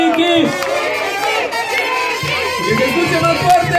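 A loud carnival crowd at the Carnaval de las Carolinas 2017 cheers and shouts, a dense, continuous wash of many overlapping voices close by.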